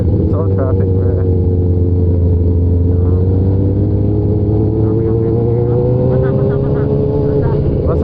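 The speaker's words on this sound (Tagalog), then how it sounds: "It's all traffic" Road traffic in a Philippine town, with a steady drone of engines and passing vehicles, including a multi-cab, running continuously close by throughout, while people talk over it.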